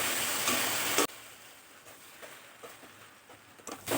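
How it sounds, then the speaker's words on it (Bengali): Bhindi chorchori, okra cooked with mustard paste, being stirred in a pan: a loud sizzling scrape for the first second, then softer intermittent frying and stirring sounds with a few scrapes near the end. "2 মিনিট পর ঢাকাটা খুলে আর একটু ভালো করে নেড়ে চেড়ে দিচ্ছি"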